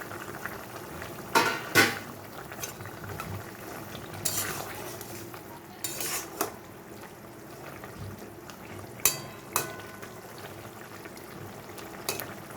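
A Bengali potato and aubergine curry with fried puti fish simmers in a pot, giving a low steady bubbling under scattered utensil scrapes and clinks, close by with no voices.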